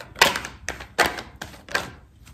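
Cards of a tarot deck being cut and tapped, a series of five or six dry papery slaps and shuffling thumps at an uneven rhythm, close and moderately loud with no voice.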